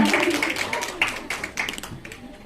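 A church congregation at an Independence Day service claps for fellow members. The brief, close, uneven patter of hands has a voice mixed in.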